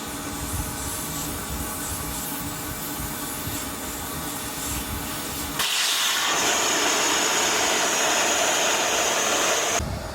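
Compressed air roars steadily through swimming pool plumbing lines during winter closing, a loud continuous hiss that shifts to a harsher, brighter rush partway through and then cuts back.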